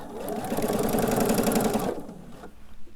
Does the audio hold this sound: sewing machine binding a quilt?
yes